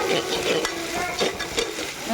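Onions sauté in peanut oil and ghee in a cooker, a steady close sizzle with the scrape of a ladle stirring in a few distinct strokes.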